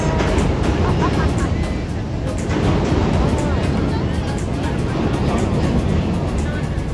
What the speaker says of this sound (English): I apologize for the noise from the L train,